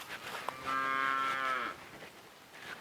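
A cow gives one clear, sustained moo of about a second, heard fairly close against a quiet farmyard background.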